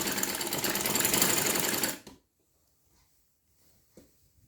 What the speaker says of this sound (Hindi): ये देखें, थोड़े से स्पेस में मैं स्टिचिंग कर रही हूँ, इतनी 1 इंच की गैप में।